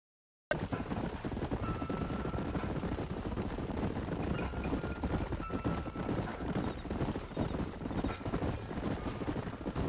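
Horses trot in the video game Red Dead Redemption, a steady clip-clop of hooves running throughout at moderate loudness over wind and ambient rumble, with a voice faintly heard at times.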